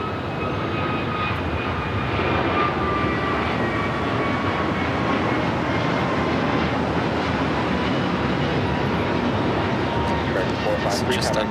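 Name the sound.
airliner taking off from runway 25 right at LAX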